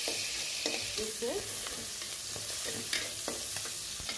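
Shrimp with onion and green chillies sizzling in a pan while being stirred, a continuous hiss broken by repeated scraping strokes of a spatula, close and without voices.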